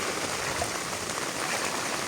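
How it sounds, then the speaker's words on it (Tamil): Heavy rain pours steadily onto a road in a steady broadband hiss, constant and close throughout with no voices. "ரோட்டிலேயே இப்படி மழையாண்டா பாருங்க இப்படி மழையாண்டு எல்லா இடமும் சரியான மழையாக தான் இருக்குது"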